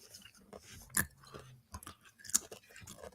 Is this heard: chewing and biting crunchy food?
yes